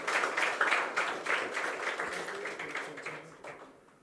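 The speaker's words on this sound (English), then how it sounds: "A big round of applause, ladies and gentlemen." An audience at the Falling Walls Lab Ghana 2025 competition applauds a winner, a dense steady clapping that sounds close and fills the hall, then thins out toward the end.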